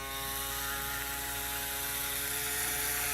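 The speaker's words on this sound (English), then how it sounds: "you guys can see how fast this shaver is cutting" An electric hair shaver whirs steadily through hair during a fade haircut, a close, constant motor hum with no voices.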